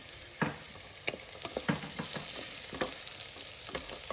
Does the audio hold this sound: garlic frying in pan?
yes